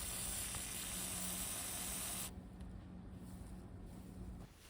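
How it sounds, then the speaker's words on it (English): Cleaner is sprayed onto throttle body parts from a Mitsubishi Delica D5 as one steady, hissing burst that runs about two seconds and then stops, leaving a fainter hiss behind. "I'm gonna go ahead and spray it out."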